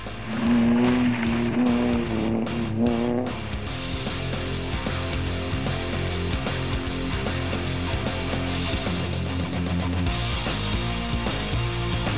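Performance cars of a car club arriving, engines droning loudly and continuously, a rising tone early on then a dense steady roar, with music-like layered hum underneath and no talk.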